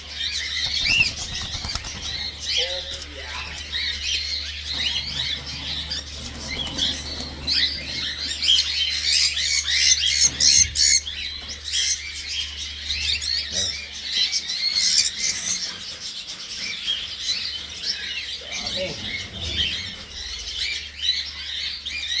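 Black-headed birds at a harvest squawk and chatter continuously in a dense flock, their shrill calls layered close and loud over a low steady hum, with occasional wing flutters.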